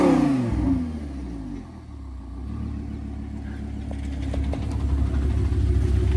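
Lamborghini and Mustang GT sports cars revving loudly nearby, a deep sustained engine roar that swells and surges steadily over several seconds with no talk.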